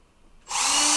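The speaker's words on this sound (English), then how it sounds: "get a small little drill bit, and you don't have to have it fast, on a low speed" A power drill fitted with a small bit runs at low speed into drywall on a wood-frame house wall, starting abruptly after a brief quiet and holding a steady, close, loud whine with a faint low tone beneath.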